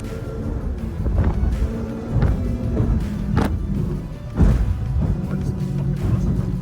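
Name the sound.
speedboat leaving the water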